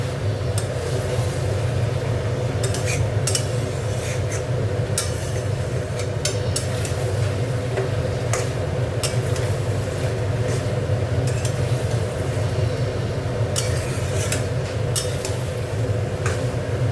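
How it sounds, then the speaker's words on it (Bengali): Soybean curry with spices being stirred in a pan, sharp metallic scrapes and clinks of a utensil at an irregular pace over a steady, loud hum of background noise, with no talking. "দিয়ে একটু মিশিয়ে নেবো মশলাটা এর মধ্যে"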